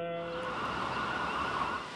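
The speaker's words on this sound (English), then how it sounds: "operates the citywide storm tornado warning siren system." A citywide storm and tornado warning siren wails as one steady, sustained tone that fills the whole moment without voices, heard clearly at moderate distance.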